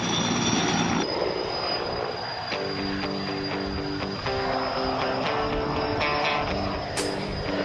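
A heavy-lift air crane helicopter hovers nearby while delivering a load, giving a steady loud rotor and engine drone with a sustained whine and layered tonal hum that hold throughout.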